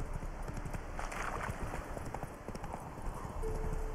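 Horse hooves clip-clopping steadily in Witcher 3, a continuous rhythmic trot at moderate distance over quiet ambient game sound.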